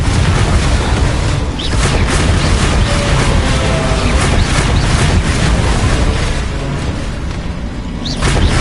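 Repeated booming spell blasts and magical explosions from Hogwarts Legacy gameplay, a dense, continuous barrage of loud bursts and crackling impacts with no pauses between them.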